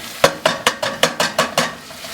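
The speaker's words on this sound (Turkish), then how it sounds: "Birazcık bademleri de kavuracağım" Almonds being roasted in a pan, with seven sharp rhythmic scraping clacks of a utensil stirring them, evenly spaced and close, then a quieter pause; no voices.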